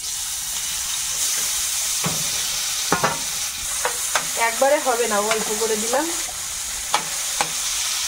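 Small fish frying in oil in a pan for a spicy Bengali fish curry, a steady close sizzle with stirring clatter and spatula scrapes, while someone speaks briefly over it.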